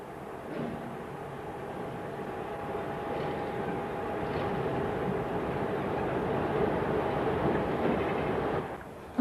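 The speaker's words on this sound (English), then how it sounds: "a succession of 76 haul trains pass the power control centre" Class 76 electric locomotive-hauled trains rumble past steadily on the 1950s Woodhead Line, a low droning roar that swells gradually and holds for several seconds, with no voices.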